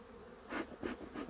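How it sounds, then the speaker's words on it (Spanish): Honey bees buzz at a hive being prepared for wintering, several close, faint droning swells passing in quick succession over a soft background hum. "sino es que tiene tantas abejas que es dificilísimo"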